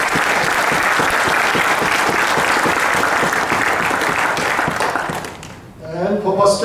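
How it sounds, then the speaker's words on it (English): Audience at an eye-health program talk bursts into sustained, loud applause from many hands, holding steady for several seconds before fading as a voice begins speaking near the end. "A round of applause for Dr. Pundit and his sidekick."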